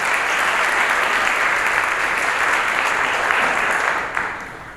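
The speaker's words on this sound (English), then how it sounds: "Would you give them a round of applause?" A school auditorium audience at a middle school chorus concert claps loudly and steadily for nearly five seconds, a dense wash of applause that tapers off at the end.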